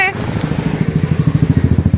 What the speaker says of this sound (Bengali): গাড়ির আওয়াজ